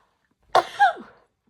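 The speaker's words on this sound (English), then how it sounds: "I think I'm going to sneeze." A single sneeze, a quick sharp intake followed by an explosive burst that trails off, heard alone and close.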